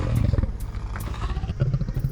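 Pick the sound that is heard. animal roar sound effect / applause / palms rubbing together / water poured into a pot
animal roar sound effect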